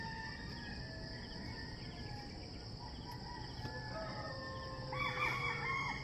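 Steady, faint chirping of crickets outdoors at a rural work site where a cyclone wire fence is being built, with a rooster crowing in the distance and a brief louder bird burst near the end.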